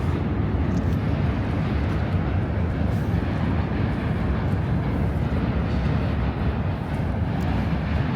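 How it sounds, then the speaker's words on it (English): A subway train crossing the Manhattan Bridge in New York City gives off a loud, continuous low roar and rumble. The sound stays steady from start to finish with no talk over it. "the roar and the rumbling of the subway going over the Manhattan Bridge"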